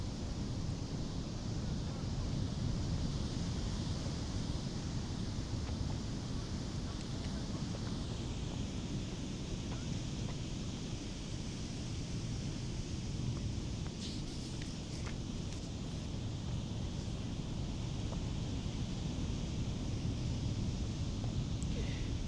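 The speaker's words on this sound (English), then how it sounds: "I hope you can hear the waves" Waves breaking on a beach where surfers are out, a steady, dense wash of surf roaring continuously throughout, with wind buffeting the microphone and faint rustling, no talking over it.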